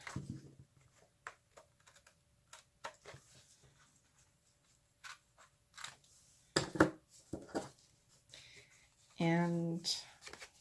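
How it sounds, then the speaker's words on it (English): Scissors trim paper for a handmade vintage journal in a series of sharp, close snips and crisp rustles, separated by quiet gaps, with brief bits of talk near the end. "just grab your scissors to trim it"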